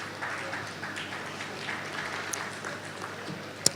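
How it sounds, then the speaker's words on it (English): A crowd claps steadily throughout, a dense, even patter of applause heard at a moderate distance. "you deserve a resounding round of applause, please"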